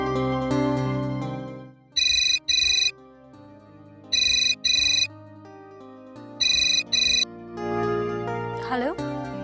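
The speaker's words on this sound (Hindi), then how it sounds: "तुम्हारे लिए फोन है।" A telephone ringtone in a Hindi television drama, three repeated bursts of bright electronic double chirps alternating with a louder melodic tune and background music, followed by a rising swoosh effect.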